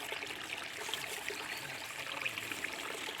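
Steady running water of a stream deep in a forest, a continuous close rush and trickle with no voices over it.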